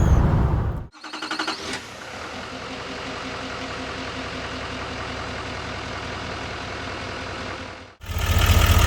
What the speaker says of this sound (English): You can hear it again when the engine brake comes in.